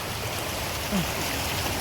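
Hua Chang waterfall in Pai pours in a steady, even hiss of falling water, heard briefly and at moderate loudness.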